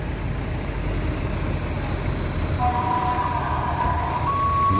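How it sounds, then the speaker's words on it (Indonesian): A large Hino truck idles and rumbles nearby with steady low engine noise as it enters a bus terminal in Solo, while a faint high beeping tone starts partway through. "Truk Hino memasuki Terminal Barai Solo ini"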